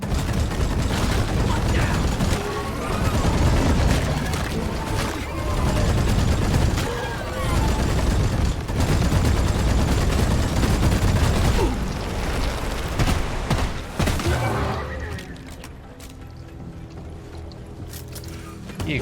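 Rapid automatic gunfire from a high rate-of-fire weapon in the video game Deep Rock Galactic, a loud sustained burst of shots that runs for most of the stretch before dropping to quieter game ambience.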